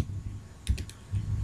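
Someone types a project name on a computer keyboard: a short cluster of crisp, quick key clicks close by over a soft background hum, followed by a lone keystroke.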